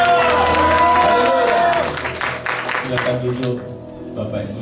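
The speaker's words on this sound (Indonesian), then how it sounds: "Tepuk tangan buat Tuhan Yesus. Sorakan haleluya." A church congregation applauds and cheers hallelujah together, a dense wash of clapping and voices that is loud at first, then eases slightly while the crowd carries on.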